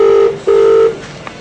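A mobile phone rings back while dialing: two long, loud electronic ring tones, separated by a short gap, then fading into a quiet background.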